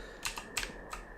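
Computer keyboard keys pressed in a few quick, separate bursts of clicks during gaming, close and fairly quiet, with no talking.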